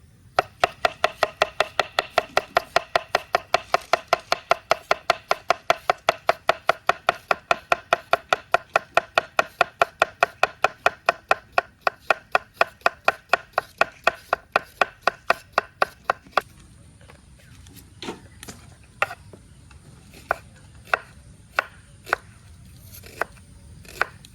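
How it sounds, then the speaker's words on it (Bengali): A knife chops cucumber on a board outdoors at a picnic spot, fast, even, evenly spaced cuts for about sixteen seconds, then a few slower, sparser strokes with quieter pauses between. "ওই জলটা খুশ জলটা শসাটা কেটে নাও"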